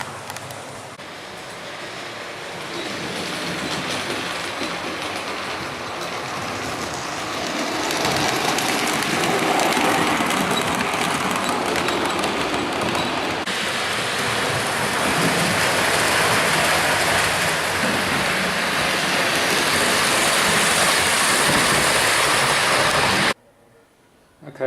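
A model train rolls steadily along a model railway layout, a continuous close rumble and rattle that swells slightly as it runs, then cuts off abruptly near the end.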